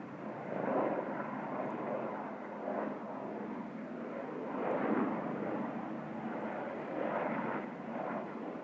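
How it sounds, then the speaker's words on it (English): Broadband rumbling roar with slow swells, steady and fairly distant, consistent with a helicopter setting down nearby; no voices. "Sounds like the helicopter landed nearby."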